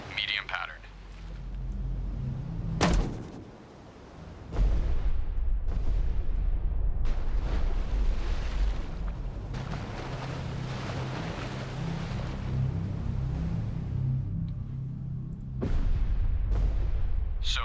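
Depth charges detonating in the destroyer anti-submarine sim Destroyer: The U-Boat Hunter: several sharp concussive onsets, each swelling into a long, heavy, low rumble of churning sea, loud and sustained over steady ship and water noise.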